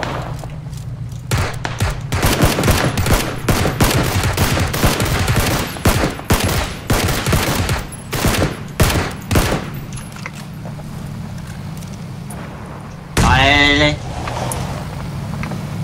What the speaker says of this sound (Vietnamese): Nó tiếng súng kìa, có thằng trên này kìa.